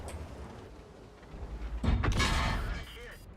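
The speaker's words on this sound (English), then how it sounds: "There's an SU-152 shooting HE." An SU-152 tank destroyer fires a high-explosive shell in the tank game World of Tanks, a single deep booming blast with a rumbling tail following a stretch of low background noise.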